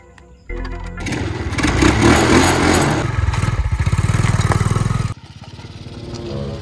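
A motorcycle engine at a roadside checkpoint, revving up loudly from near idle, then settling into a steady rapid putter before cutting to a lower idle chug.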